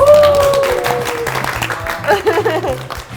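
A studio audience claps for guest experts at a beer-tasting show, with brisk applause heard under music and a speaking voice.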